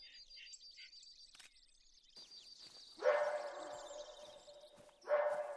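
Coyotes in the hunting game The Hunter: Call of the Wild let out high yips, then two loud, harsh bark bursts a couple of seconds apart, fairly close over a faint outdoor ambience.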